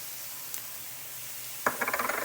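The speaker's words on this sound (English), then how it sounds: "I've got a half a stick of butter. I'm sauteing these in." Half a stick of butter with teaspoons of garlic powder and onion powder sautéing in a pan: a quiet hiss, then a sudden louder sizzle followed by a quick rhythmic run of stirring scrapes.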